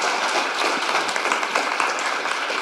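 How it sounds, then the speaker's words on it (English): Audience applause at the official launch of the School Readiness Program in Hamilton, a steady dense wash of clapping that fills the short stretch at an even, moderately loud level. "that deserves a round of applause"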